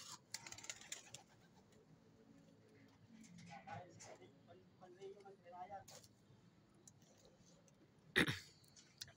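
Pigeons or doves coo softly at a moderate distance, their low calls surfacing under ongoing conversational talk, with one sharp knock near the end.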